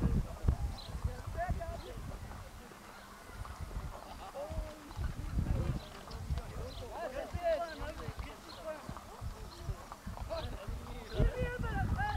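Donkeys walking, their hooves clip-clopping in an irregular patter close by, with people talking over and around the steps throughout.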